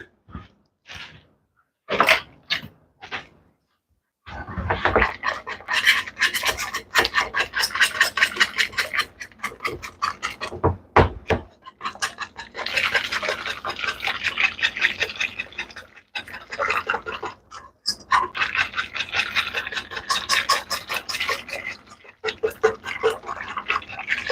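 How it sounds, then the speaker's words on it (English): A whisk scrapes and taps rapidly against a bowl while pasta sauce is being cooked, a busy rattling rhythm in bursts with short pauses, fairly close. "Let me switch to my whisk."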